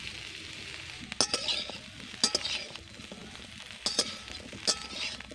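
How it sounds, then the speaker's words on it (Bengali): Sojne data (drumstick pieces) frying in a pan, with a steady sizzle broken by several clinking scrapes as the pieces are stirred and turned, close and fairly quiet, no voices. "সজনে ডাঁটা ভাজবার সময় কিন্তু মাঝে মাঝে নেড়ে রাখতে হবে, তাহলে কিন্তু দুদিকটা সমানভাবে ভাজা হবে।"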